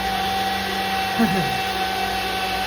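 A kitchen mixer motor runs while the mixer is being washed, giving a steady, continuous droning hum with a faint brief rise partway through.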